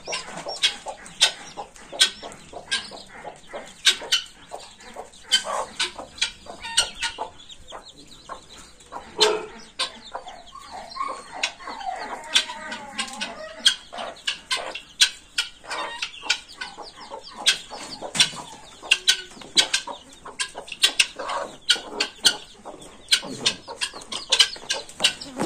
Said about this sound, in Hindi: मुर्गी को भी इधर छोड़ दिया और चूज़ों को भी छोड़ दिया